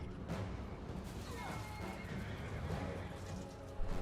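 A horse whinnies loudly amid a busy clatter of battle noise and hoofbeats, with a sharp crash near the end, in the video game Total War: Warhammer 2.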